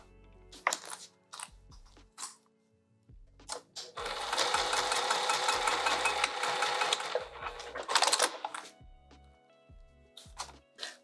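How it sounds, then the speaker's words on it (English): Sewing machine stitching pieces of a vinyl sling bag, starting with several short stop-start bursts, then running in a long steady stretch of rapid needle strokes before breaking again into brief bursts and clicks. "let's sew those in place"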